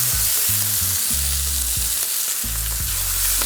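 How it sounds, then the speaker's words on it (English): Seasoned chicken frying skin side down in oil gives a loud close crackle and sizzle, while a low rhythmic thumping runs underneath the frying. "Gonna do about 5 minutes on one side, skin side down, and then about 3 minutes on the other side."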